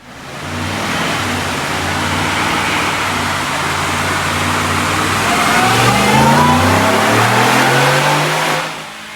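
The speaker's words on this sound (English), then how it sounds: "Check out this dyno pull." A Roush-supercharged 2018 Ford F-150 King Ranch 4x4 revs on a dyno, its engine droning loud and steady, then climbing in pitch with a rising supercharger whine before cutting off sharply.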